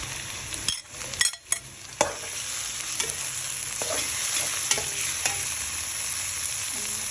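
Chicken livers sizzle in a pan with onions, a steady bright frying hiss broken by several sharp scrapes and clinks of a utensil stirring, with no voices.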